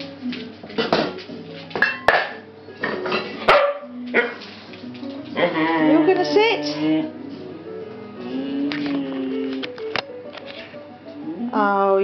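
Several dogs bark and yap excitedly indoors at a house, in repeated short bursts over about twelve seconds, mixed with a person talking to them and clattering household sounds nearby.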